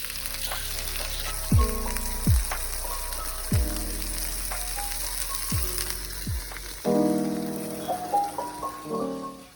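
Food searing and sizzling in a hot pan while pieces are flipped to build a little crust on top, a steady bright crackle with several sharp clanks and scrapes of utensils against the pan, close and loud.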